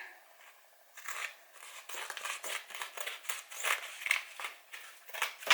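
Scissors cut through boob tape at close range, a quiet run of repeated crisp snips and crinkles that grows slightly louder toward the end, with no talking.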